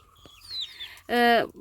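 A single loud, drawn-out squawk from a chicken, preceded by faint chirping and softer background sounds.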